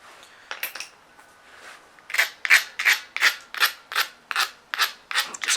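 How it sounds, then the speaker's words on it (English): Rhythmic rasping strokes clean burrs off the edge of an obsidian preform during pressure flaking: a few tentative scrapes, then about a dozen evenly spaced, close, crisp abrasive rubs with no talk. "Just cleaning off the burrs again."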